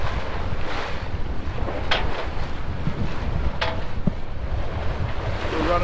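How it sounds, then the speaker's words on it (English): Steady wind roars across a sailboat under sail on the Greek Aegean Sea, heading slightly upwind, with waves washing against the hull in a continuous loud rush and a couple of brief creaks. "Wind finally came around for us."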